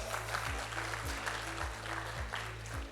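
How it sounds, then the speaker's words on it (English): An audience claps steadily for a few seconds, a dense patter of hands at moderate loudness. A low rhythmic thump repeats underneath. "big round of applause."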